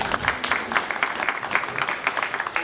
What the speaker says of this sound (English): Give yourself all a big round of applause.